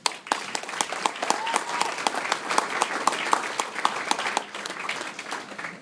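Audience applause fills a charity foundation event hall, a steady dense crowd of hands clapping close and loud for several seconds, slightly thinning toward the end.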